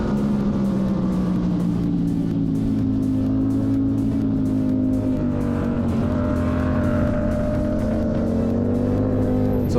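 Racing motorcycles on track, including a Ducati V4, roar in a loud, continuous engine drone whose pitch rises and dips slightly as they run close by.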